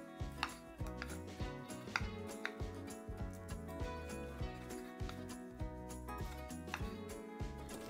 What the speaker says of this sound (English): I'm chopping up red onion, garlic and tomatoes for sambar.